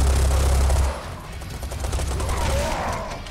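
Rapid gunfire in the shooter game Serious Sam 4, a loud, dense burst of shots for about a second, then continuing weaker, rattling fire under game noise.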